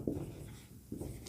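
Chalk or marker scratching out an answer on a classroom board during a Class 10 trigonometry lesson, with two short bursts of stroke sounds separated by a pause, close and moderately quiet.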